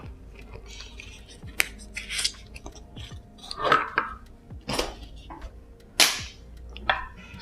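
Sharp scissor snips trimming the branches of a eugenia pre-bonsai, several distinct close cuts spaced irregularly, with faint rustling of leaves between them.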